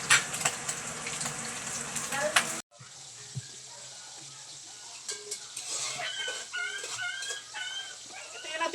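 Tuna pieces fry in hot cooking oil with a steady, dense sizzle, cut off abruptly partway through, then a quieter crackle with scattered pops and light stirring clatter.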